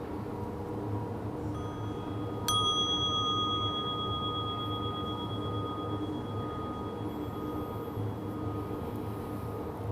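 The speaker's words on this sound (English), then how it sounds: "we'll begin with the sound of a bell" A single meditation bell struck once, a clear bright strike that rings out and decays slowly over several seconds against a quiet, hissy room background.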